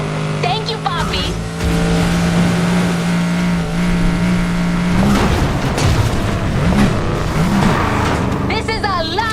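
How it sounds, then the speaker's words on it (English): A Koenigsegg Regera in the racing game Need for Speed Heat roars and revs loudly, its pitch climbing and shifting between gears, with a voice talking over the engine. "I love the sound of this engine."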